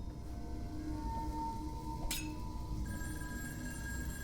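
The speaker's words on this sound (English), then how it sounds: "There's a phone call." A telephone ringing inside the horror game In Sound Mind, a short bell-like burst standing out midway over a steady droning game ambience, with no one talking.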